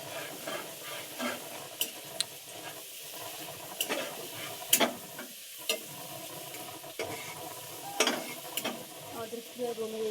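Shrimp sizzle steadily in a hot pan under continuous frying hiss, broken by sharp clicks and scrapes of a utensil stirring, heard close with no talking.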